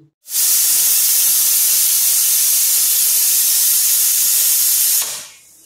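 A pressure cooker boiling potatoes vents a loud, steady hiss of escaping steam for about five seconds, then cuts off abruptly.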